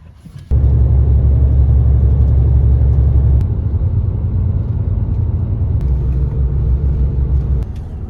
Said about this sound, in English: You can hear the F3 cars.